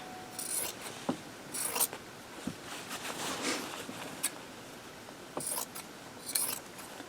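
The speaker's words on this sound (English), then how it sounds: "need to trim this, but we gotta be careful we don't cut what's underneath." Scissors snip along the edge of a minky quilt, trimming the layered fabric in a string of short, crisp cuts and rasping strokes. The snips come close and moderately loud with small pauses between them, and no one speaks.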